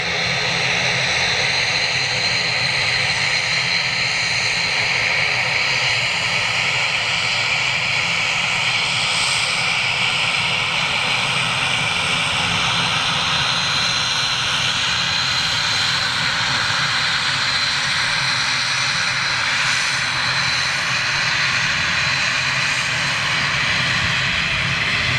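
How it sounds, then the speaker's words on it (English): A Flybe ATR turboprop at an airport sends out a loud, steady engine roar and high whine that stays constant throughout, with no voices. "Everybody loves a turboprop."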